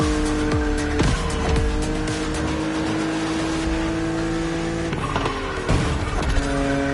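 A BMW Z4 E89 in The Crew Motorfest racing game roars loudly and continuously, with engine revs rising and falling through gear changes and tires squealing in skids.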